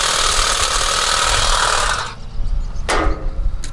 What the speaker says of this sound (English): What if we cut a piece of oak?